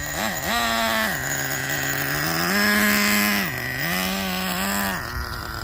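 A Traxxas Nitro Revo 3.3 RC car's nitro engine warms up, buzzing loudly and steadily while its pitch rises and falls with repeated throttle blips, close by and with no talking.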